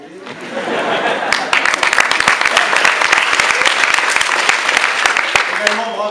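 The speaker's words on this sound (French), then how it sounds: "Applaudissements pour vous-même." Sustained applause fills a hall at an eloquence competition in Angers, a crowd clapping loudly with a few sharp individual claps standing out and a voice talking underneath.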